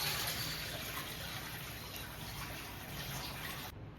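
Mutton paya bone pieces being rinsed in a bowl of water, with a soft, continuous swish and trickle of sloshing water heard close and quietly.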